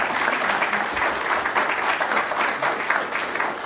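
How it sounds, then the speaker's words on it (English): A lecture audience gives sustained applause to welcome a speaker, a dense, even wash of many hands clapping at moderate volume with no talk over it. "let's have a round of applause"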